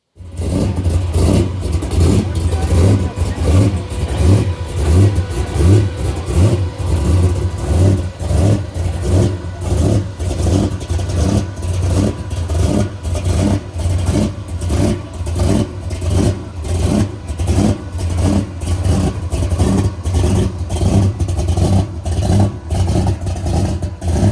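A pro street car with a polished blower and two carburetors revs hard, its loud, lumpy engine note pulsing steadily and close by throughout, with no talking over it.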